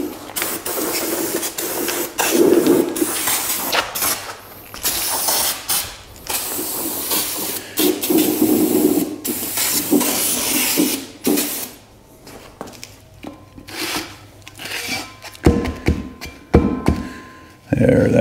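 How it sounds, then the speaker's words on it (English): Bursts of hissing aerosol cleaner sprayed onto a drum brake, repeated in short and longer blasts with clicks and thunks between, close by with no talking. "we're just gonna spray this down. Just get all the little loose stuff off of here."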